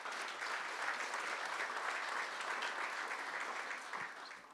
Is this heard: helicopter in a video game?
no